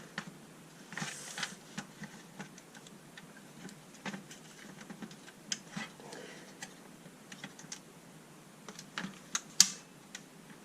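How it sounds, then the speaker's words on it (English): A Ryobi 18V cordless vacuum under repair gives off irregular, light clicking and ticking noises, quiet and scattered across the stretch, with sharper clicks clustered near the end. "I hate the way it's making those strange clicking noises."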